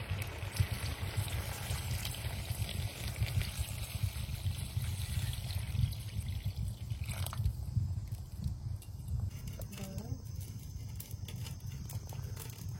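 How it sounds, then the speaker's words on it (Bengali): Water poured into a pan of browned chicken curry, a steady gurgling, splashing stream under a low rumble of background noise, softening and changing in tone partway through, with no talk. "মাংস কষানো হয়ে গেছে, এবার জল দিয়ে দেবো।"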